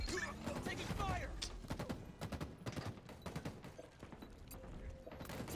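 Gunfire in a Halo Infinite match: dense, rapid volleys of shots and impacts pile up through the whole stretch, with breaks between bursts and other game sounds mixed in.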